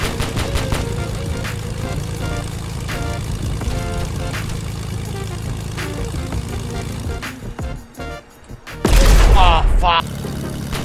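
Roblox base battles air combat, with helicopter rapid gunfire during a dogfight over continuous engine and rotor drone, ending in a loud burst near the end, while a person talks throughout.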